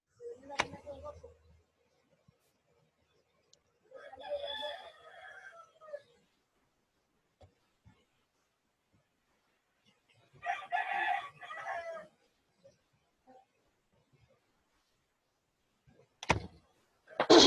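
A rooster crows several times in separate bursts, fairly close and clear, with quiet pauses between calls and a brief sharp knock near the end.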